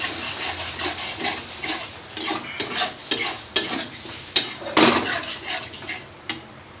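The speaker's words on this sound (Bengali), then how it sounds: "সামান্য পরিমাণে জল দিয়ে মশলাটা কষিয়ে নেব।" Spice masala with a little water and tomato butter being stir-fried in a pan for biryani, with repeated close scraping and clinking of a metal spatula against the pan over a soft sizzle, with no voices.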